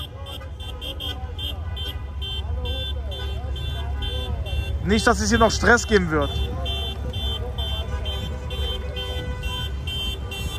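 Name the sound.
car horns honking during street celebration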